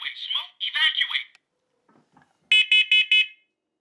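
First Alert SCO7CN combination smoke and carbon monoxide detector being tested: a synthetic voice announces warnings, then four loud, shrill alarm beeps follow in a steady rhythm, close by.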